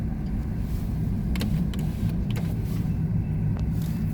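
A southbound freight train of empty well cars passes through Vader, Washington, as a steady, loud low rumble with a few brief clanks and squeals above it throughout.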